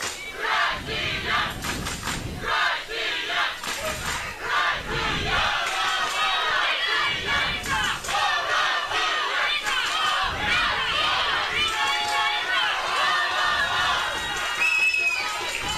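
An excited crowd at a youth archery championship shoot-off for bronze between Italy and Russia, shouting, chanting and cheering loudly with rising bursts of rhythmic yells and scattered thumps, a commentator's voice occasionally underneath.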